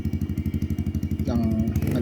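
A Yamaha XSR155 motorcycle with an aftermarket full exhaust idles with a loud, rhythmic thumping pulse, then revs up into a rising, steadier roar, close by.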